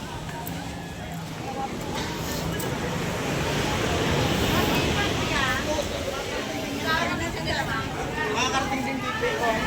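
Waves wash and churn at a seaside fish terminal in Tanza, Cavite, a broad steady roar with wind buffeting the microphone, while people talk over it and a boat engine may hum beneath.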